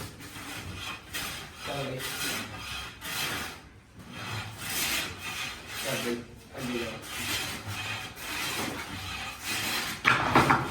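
A hand plane is pushed repeatedly across wood, making rhythmic rasping shaving strokes at a moderate level with brief gaps between passes and a faint murmur of voices behind.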